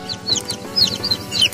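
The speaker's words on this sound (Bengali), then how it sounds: "এখানে দেখতে পাচ্ছেন এগুলো সব দেশি মুরগির বাচ্চা" Newly hatched native chicken chicks peep from an incubator, with bright, high chirps repeating in quick bursts close by over a steady low machine hum.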